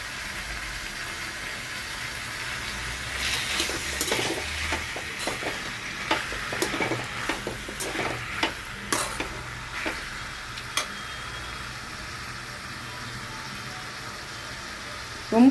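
Curry meat sautéing in a pan gives a soft, steady sizzle, with scattered clicks and scrapes from stirring that cluster in the middle before settling back to a quiet hiss.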